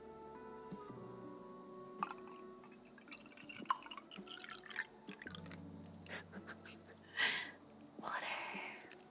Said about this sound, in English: do you guys want to hear some water sounds? Because I'm gonna drink water anyway.